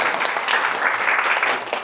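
An audience at a lecture on geopolitics breaks into loud, dense applause that fills the room steadily from start to finish, with no voices over it.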